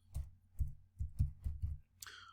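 Six slow, evenly spaced taps of one finger on a computer keyboard, close and distinct, followed by a brief soft breath.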